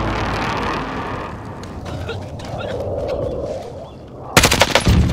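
Gunfire in the battle royale shooter Call of Duty Warzone, a dense burst of rapid shots near the end after a stretch of busy game sound, with players talking over it.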